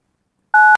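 A phone keypad gives one short, clear dialing tone as a number is entered, with silence before it.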